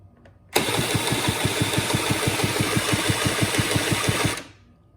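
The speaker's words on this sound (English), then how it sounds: "now the spark plug's out, and listen to how it turns over" A Honda Spree scooter engine is cranked by its starter with the spark plug removed for about four seconds, a fast, even mechanical chugging that never catches, then spins down and stops.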